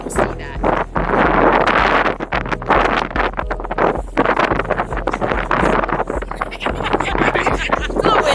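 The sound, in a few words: wind blowing outdoors near an RV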